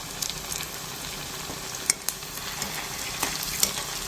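Aloo tikki, golden potato patties, sizzle in a little oil in a pan, with soft steady frying hiss and scattered faint pops and crackles, fairly quiet and close, with no talking.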